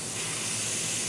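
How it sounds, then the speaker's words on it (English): Airbrush spraying a cleaning mix of isopropyl alcohol and water onto a paper towel, a continuous close hiss held steady throughout without speech. "I'll just spray it on my paper towel here to make sure it cleans out."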